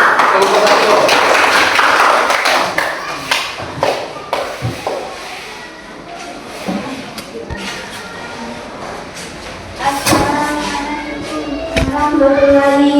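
A group claps as the first student group comes forward to present; the dense, fairly loud applause fills the first few seconds, then thins into scattered taps and shuffling as voices take over.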